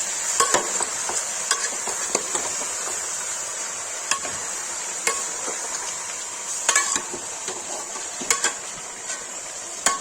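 Chicken and salt stirred in a hot pan, with a steady sizzle and frying hiss under irregular scrapes and clinks of a utensil against the pan, close up, with no talk.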